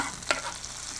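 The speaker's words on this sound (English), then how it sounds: "do you want me to give it a stir?" Garlic and butter sizzle in a frying pan while being stirred, with one sharp scrape of the utensil standing out against a steady background hiss.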